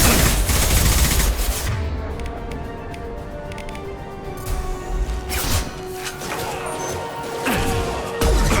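Dense, continuous gunfire and crashing impacts from a Mass Effect Legendary Edition firefight, loud rapid bursts layered with explosions and clattering hits, with occasional combat voices mixed in.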